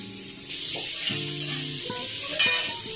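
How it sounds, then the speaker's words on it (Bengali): Vegetable stems and ridge gourd sizzling in leftover oil from frying fish, a steady close hiss of frying with a few utensil clinks and stirring sounds, no voices. "আমরা ওই মাছ ভাজার তেলেই ছেড়ে দেব ডাঁটা এবং ঝিঙে"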